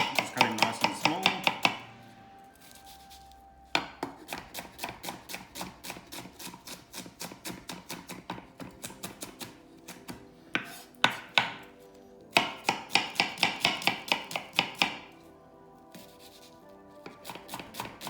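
A knife chops ingredients small for Thai green curry paste, sounding as rapid, close rhythmic thuds on a cutting board in several bursts separated by short pauses.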